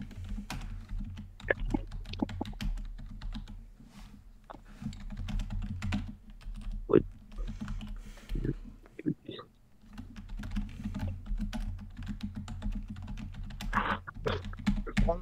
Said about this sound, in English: you typing up the rest of that script, Buckaroo?